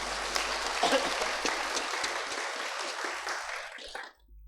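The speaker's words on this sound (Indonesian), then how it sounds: "Tepuk tangan dulu." Sustained applause from a motivational seminar audience, dense clapping that carries on for a few seconds before abruptly cutting off.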